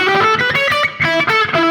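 A heavily distorted electric guitar plays a fast, jagged lead line of short, bright notes, loud and alone.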